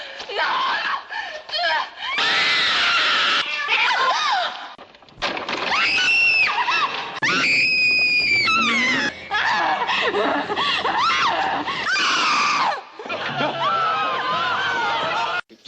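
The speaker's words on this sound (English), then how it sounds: "if you enjoy listening to people screaming bloody murder, then there's lots of screaming in this" Frantic screaming from the horror film The Blind Dead, with shrill wavering cries rising and falling in repeated bursts amid overlapping voices and commotion.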